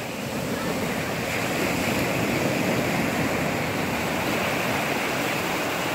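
Surf washes onto a beach in a continuous, broad roar, with wind buffeting the microphone and no distinct breaks between waves.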